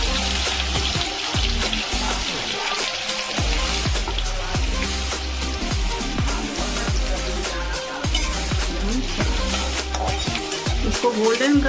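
Finely chopped onions frying in a pan with cloves and black peppercorns for matar poha, a steady close sizzle with stirring scrapes running throughout.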